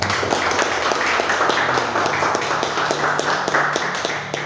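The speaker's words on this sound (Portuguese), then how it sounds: "Adoremos a Ele com nossas palmas" A church congregation claps in praise after a prayer, a steady dense patter of many hands that holds evenly from start to finish, close and full, with no talk on top.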